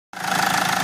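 Mercedes car engine after an injection rail repair, starting abruptly and then running at a steady, loud, close idle with a slight rhythmic pulsing.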